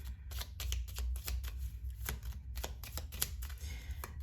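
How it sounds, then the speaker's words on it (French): Tarot cards being handled and another drawn from the deck, a quick run of close, crisp flicks and slides with short pauses between them. "je prends une autre carte"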